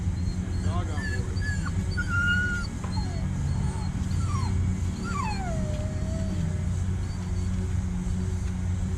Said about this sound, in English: Dog on board.